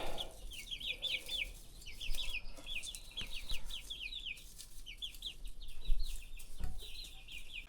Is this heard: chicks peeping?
yes